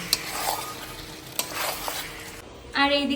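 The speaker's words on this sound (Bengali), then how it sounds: "এবারে সেদ্ধ করে রাখা মাটনটা দিয়ে দিতে হবে আর এটা ভালোভাবে কিন্তু কষিয়ে নিতে হবে" Boiled mutton being stir-fried in a pan for biryani, a brief close sizzle with a couple of spatula knocks, then a sharper clatter near the end.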